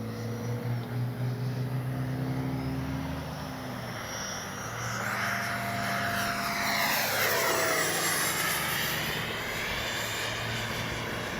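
An FMS F-16 64mm electric ducted fan RC jet flies past outdoors, a whooshing, whining roar that builds and sweeps overhead, loudest in the middle before easing off, with no speech.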